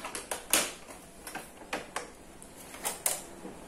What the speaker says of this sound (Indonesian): Kita matikan dulu.